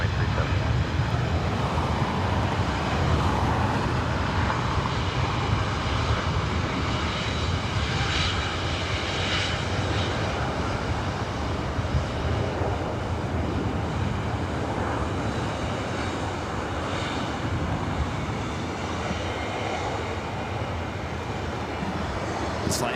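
A Boeing 737-800 jet airliner at LAX gives a steady, loud engine roar that holds broadband and nearly unchanged for the whole stretch, with a faint wind rush on the microphone and radio chatter at a low level underneath.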